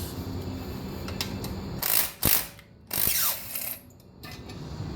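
A 7/16 ratchet works on the muffler bolts of a Briggs and Stratton 5hp small engine, giving close, quick mechanical clicking runs with short bursts of louder metallic rattling between them.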